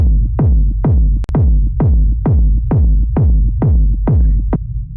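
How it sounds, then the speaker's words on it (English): Synthesized rumble kick drum for dark techno, a hard 909-style kick hitting in a steady four-on-the-floor pulse, about ten punchy thumps with long booming low tails, loud and alone. "So this is a rumble kick"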